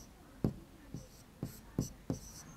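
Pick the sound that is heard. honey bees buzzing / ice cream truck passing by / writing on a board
writing on a board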